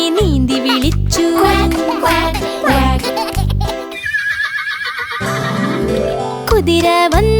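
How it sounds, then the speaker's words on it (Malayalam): A horse neighs loudly inside a Malayalam children's animal-sounds rhyme, with a rising and falling whinny that rings out over the bouncy music and sung verse. "കുതിര വന്നു കുതിര വന്നു ഓടിക്കിതച്ച് വന്നു വിളിച്ചു"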